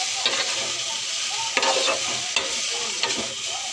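Fish and potatoes frying in a pan, a loud close sizzle with several sharp stirring scrapes of a spatula against the pan at irregular intervals.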